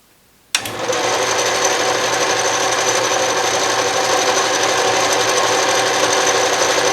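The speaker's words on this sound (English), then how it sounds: "So as you can see, the carriage is moving to the right." An Atlas Craftsman lathe starts up abruptly and runs with its carriage travelling under power feed, a steady, dense mechanical whir and rattle that holds at an even level after the start.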